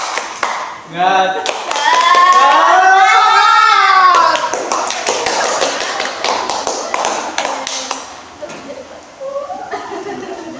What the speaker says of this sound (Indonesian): Jadi, tepuk semangat